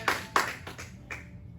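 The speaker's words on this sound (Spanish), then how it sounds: "Yo me atrevería a dar un fuerte aplauso al Rey de Reyes" A church congregation gives brief, sparse applause: a handful of sharp, separate claps in quick succession that fade out within a second or two.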